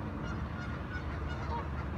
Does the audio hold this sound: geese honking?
yes